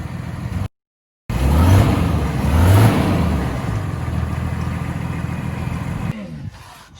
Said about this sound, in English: I'll show you a quick video on what the car sounded like before we put the new exhaust on